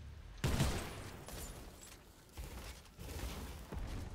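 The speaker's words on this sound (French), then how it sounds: "Qui a tiré comme ça?" Distant bursts of gunfire in a Fortnite battle royale match, a sharp crack followed by several fainter rattling volleys over steady game ambience.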